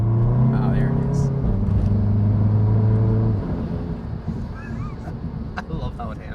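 A modified Volkswagen GTI rolls up nearby, its engine droning steadily before easing off, with wind buffeting and people talking over it.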